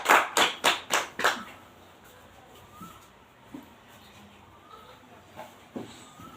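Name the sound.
audience clapping to welcome a speaker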